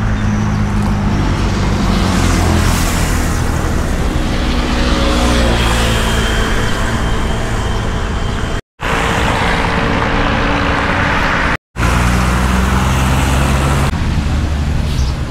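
A car cruises along Route 24 in Thailand amid a loud, continuous wash of road and engine noise, with two brief dropouts near the end.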